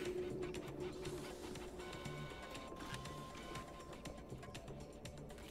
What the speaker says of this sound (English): There's a printer, and it's on.